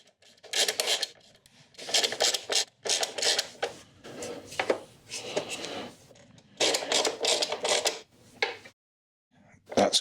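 Ratcheting and rasping bursts from a wrench snugging bolts on the rear luggage rack of a BMW R1300 GSA motorcycle, repeated close-up strokes with short pauses between them and a brief silence near the end.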